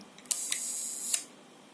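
Slow-speed shutter mechanism of a Minoltacord twin-lens camera running close up: a sharp click starts a steady whirring buzz about a second long, with a small tick midway, ending in another click.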